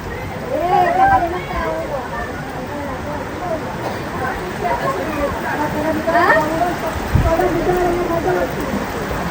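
Heavy monsoon rain pours down steadily outside a flooding house, a constant close wash of noise beneath excited voices talking throughout.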